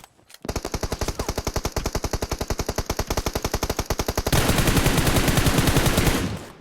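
Sustained automatic gunfire in the mobile battle royale game PUBG Mobile, a rapid, loud, evenly spaced burst of shots that shifts into a denser, harsher stream before cutting off.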